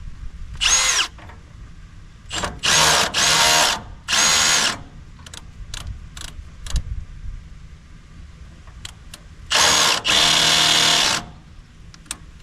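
A Milwaukee brushless impact driver strains against a stubborn bolt, loud close hammering bursts in several separate runs of about a second each, broken by pauses and a few short clicks.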